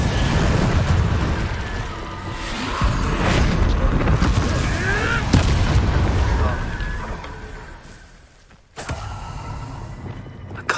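Booming spell blasts from Confringo and Incendio in Hogwarts Legacy, heavy rumbling impacts and crackling bursts mixed with battle noise, with a voice shouting spell names throughout.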